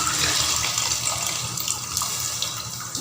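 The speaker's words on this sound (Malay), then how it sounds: "I'll add in more water and take out the second part of this tamarind water" Water pours steadily into a pot of mayung fish curry with tamarind water, a continuous close splashing rush with no talk.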